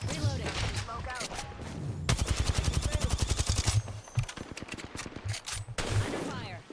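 Gunfire in the battle royale video game Apex Legends, with rapid automatic bursts and scattered single shots rattling over game sounds, and a player's voice talking in places.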